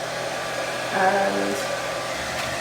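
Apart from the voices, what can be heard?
hairdryer drying a watercolour painting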